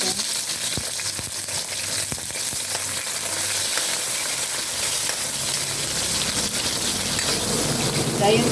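Tomatoes drop into a hot pan and sizzle loudly and steadily, with occasional stirring scrapes and brief soft speech in the background.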